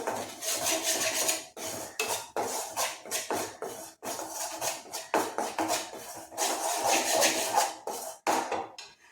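Wheat flour being stirred in ghee in a pan, with continuous close scraping and rattling of a utensil against the metal in quick, uneven strokes.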